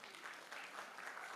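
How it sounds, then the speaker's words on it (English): Newsroom contest audience gives a brief, soft round of clapping, an even patter of many hands heard from a distance. "Let's clap for this guy."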